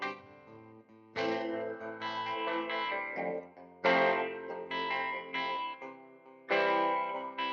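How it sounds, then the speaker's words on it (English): Music passed through an audio effect that makes it sound like an AM radio, with narrow, slightly distorted chords and a chorus-like shimmer in uneven phrases, no talking. "It's almost got this like AM radio sound"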